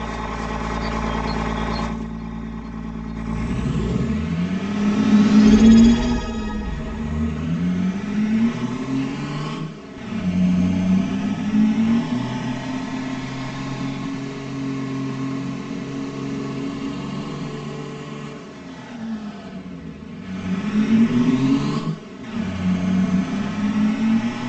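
A truck engine in Farming Simulator 22 revs and idles through repeated accelerations, its pitch rising and falling in several long swells with short pauses, loud and close with no talk.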